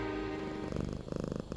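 A person imitates a cat with a low, rhythmic purring sound that pulses steadily through the second half, close and fairly quiet, with no talking.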